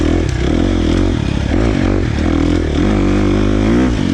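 A KTM 350 XC-F dirt bike with a Vortex ECU is being ridden through a fast trail section. The engine rumbles loud and close with a strong, steady drone, and the pitch wavers and bobs as the throttle shifts.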